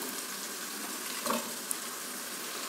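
Tomatoes frying in a tempering of mustard seeds, curry leaves, green chillies, onion and garlic, giving a steady close sizzle with a brief stir or clink partway through.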